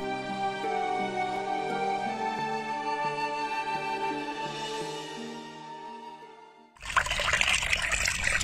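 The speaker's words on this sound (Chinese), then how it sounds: "流水声给人宁静感。" A small stream flows on Baiyun Mountain in Guangzhou. Its steady, loud rush of water cuts in only near the end, after a stretch of music.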